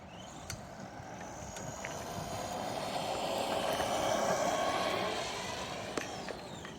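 Arrma Granite Mega RC truck motor winding up slowly in a long rising then falling whine, moderately loud over rough outdoor rumble and clatter.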